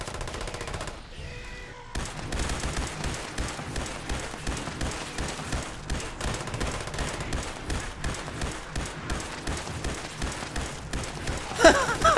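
Rapid automatic gunfire rattles in Fallout 76, a near, steady stream of shots in quick rhythm after a short lull, with a louder burst near the end.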